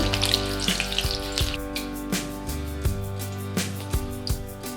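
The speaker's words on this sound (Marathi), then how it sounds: "हिरवी मिरची तळून घेऊ।" Green chillies frying in hot oil in a kadhai for potato chivda, a steady sizzle broken by repeated sharp pops and crackles, loud and close with no voices.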